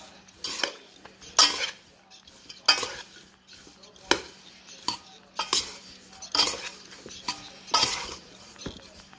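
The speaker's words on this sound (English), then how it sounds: "take tongs. Metal bowl. Toss it. Coat it all." Metal tongs tossing and coating food in a metal bowl, with a steady series of sharp clinks and scrapes roughly every second, close and clear.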